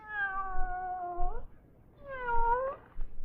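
A cat meows twice, close and clear, each call drawn out and falling at the end, with a short pause between them and no talk over it.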